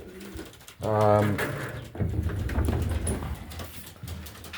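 A racing pigeon gives a brief throaty coo nearby in a pigeon loft, followed by muffled voices and shuffling in the enclosed space.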